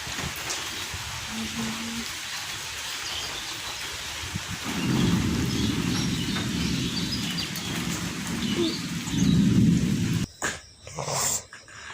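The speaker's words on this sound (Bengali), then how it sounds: "সকাল সকাল ঘুম থেকে উঠে দেখি ঝিরিঝিরি বৃষ্টি পড়ছে।" Light morning drizzle falls as a soft, steady patter, joined mid-way by a low, rolling rumble of distant thunder that swells twice before the sound briefly cuts out near the end.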